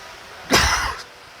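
A single short, sharp cough sounds close up against a quiet background.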